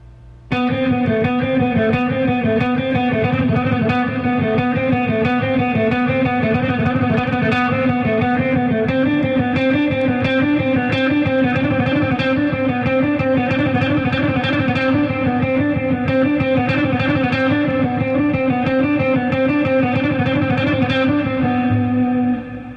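Distorted electric guitar plays a continuous picked pattern, steady and repetitive, moving between a moderate pace and quicker runs, loud and without pauses.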